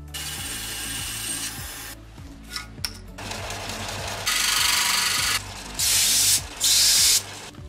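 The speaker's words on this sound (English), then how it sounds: "I'm gonna go and cut that on the bandsaw to get me the size I need." Bandsaw cutting through a piece of electronics strip board in a workshop, a harsh rasping whine in several close bursts of a second or two, separated by short pauses with the motor humming underneath.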